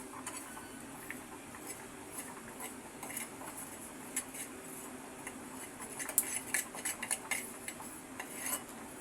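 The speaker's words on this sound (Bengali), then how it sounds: "আমার এখন এই দুই একটা তিল হালকা ফুটে উঠেছে।" Sesame seeds dry-roasting in a pan, giving scattered light pops and ticks that build slightly toward the end, faint and close over a low steady background with no talking.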